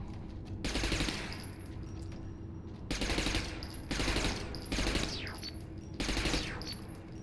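An SMG fires in the video game Interstellar Marines in four long, rapid automatic bursts separated by short pauses, each a dense rattling stream of shots with a metallic edge.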